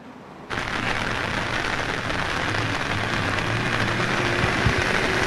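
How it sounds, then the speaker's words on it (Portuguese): Heavy rain pours down steadily near a flooded creek by a bridge in Goiânia, Brazil, a dense continuous hiss starting abruptly after a brief quiet moment and holding loud and even throughout, with no talk. "E a chuva cai, cai, cai nesse momento."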